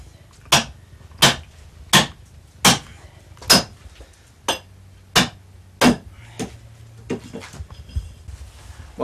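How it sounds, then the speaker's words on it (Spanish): Hand tools strike a wooden albarca clog as it is carved, a steady series of about a dozen sharp, evenly spaced knocks, close and clear, with no talking. "Mientras que él sigue tallando esa albarca"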